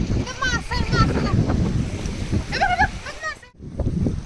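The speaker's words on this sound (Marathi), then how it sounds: "वारं चालू आहे" Wind gusts at the seaside in Devbag, buffeting the microphone with low rumbling blasts under lively voices talking and laughing nearby.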